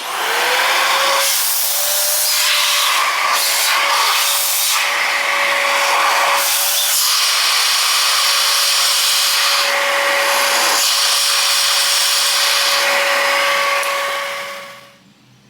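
A vacuum source applied to a carburetor for a demonstration gives a steady, loud broadband hiss with a sustained whine running throughout, cutting off near the end.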